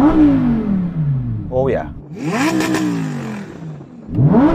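A Lamborghini Huracan STO's 5.2-litre naturally aspirated V10 revs repeatedly, with sharp rising and falling wails and a crackling blip, loud and close, while a voice briefly reacts.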